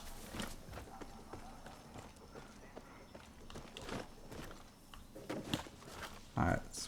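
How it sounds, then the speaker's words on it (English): Spotted horse in Far Cry 6 moving along with soft, irregular hoof clip-clops and footfalls, fairly quiet, with a few louder thuds toward the end. "Ooh, beautiful spotted horse."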